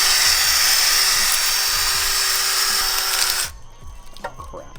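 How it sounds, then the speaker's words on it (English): Power drill spinning a wire brush against a Camaro brake caliper, a loud steady high-pitched whirring scuff for several seconds that cuts off abruptly, followed by faint clinks. "we're ready to hit it with the wire brush. This is what we're doing to prep the surface for paint."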